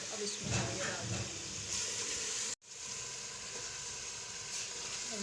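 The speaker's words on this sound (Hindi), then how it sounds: "दाल माश जो है वो मैंने पहले से अच्छे तरीके से साफ करके भिगोकर, अब इसमें ये डाल देंगे" Soaked urad dal hits hot masala in a pan and sizzles steadily, a loud continuous frying hiss with a brief break midway, then the sizzle carries on close up.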